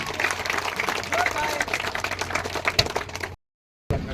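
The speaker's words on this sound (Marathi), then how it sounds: "टाळ्या वाजवा सर्वांनी" Audience applause for the man of the match at a final, brisk crackling claps mixed with voices, fairly loud and uneven, cutting out abruptly near the end before resuming briefly.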